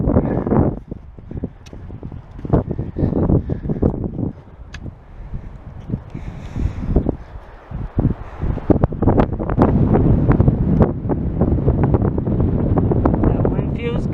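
Gusty wind buffets the microphone on a steep final ascent to a mountain peak during a hike, roaring in uneven bursts close up, with a voice speaking over it.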